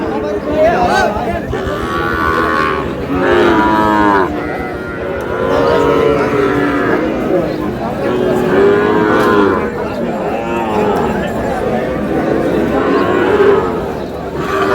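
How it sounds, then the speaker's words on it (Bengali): Sahiwal bull calves moo steadily at a busy cattle market in Bangladesh, with many overlapping, loud moos close by for the whole stretch while people chatter in the crowd. "ষাঁড় বাচ্চা, সব সার ভাই। সব ষাঁড়।"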